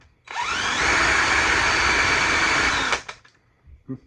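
A power drill on second speed spins a chimney sweep brush at high speed for nearly three seconds, a loud steady whine with the bristles rushing, then winds down to quiet.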